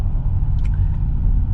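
Steady low rumble of road noise inside a Tesla Model S Plaid rolling over a rough surface, a constant close drone with a couple of faint brief chirps on top, no talking.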